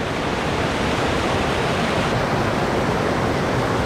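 Rushing stream water roars steadily and continuously, a dense broadband wash with no pauses and no voices.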